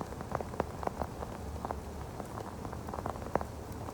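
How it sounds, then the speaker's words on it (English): Steady rain patters on a surface, with scattered louder drops standing out against a soft continuous wash, heard alone without voices. "It's just raining."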